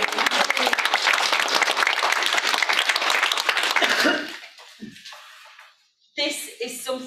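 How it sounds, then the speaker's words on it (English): Conference audience at an international Lewy body dementia gathering breaks into loud sustained applause for several seconds, fading out, followed by a voice speaking. "please give Vicky a round of applause"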